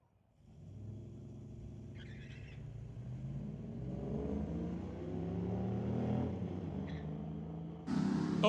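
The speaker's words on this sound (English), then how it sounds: "Pair of Zapstrap Racing pickups, and the one on the left, the one on the right" Street-legal drag racing pickup trucks from the Zapstrap Racing crew accelerate down the eighth-mile strip at Mission Raceway Park, a distant engine rumble that builds steadily in pitch and loudness before a sharper burst at the end.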